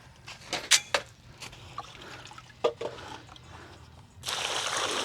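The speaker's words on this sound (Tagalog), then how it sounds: "Lalagyan ng tubig." Water is poured into a dug hole, with splashes and trickling bursts at irregular moments, then a louder sustained gush of pouring toward the end.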